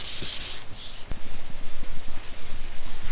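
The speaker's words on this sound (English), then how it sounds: "So I'm rubbing my hand across it a lot to fill it." A hand rubs filler smooth across a plastic-welded semi truck fender in close, loud, repeated rasping strokes that pulse in a quick, even rhythm.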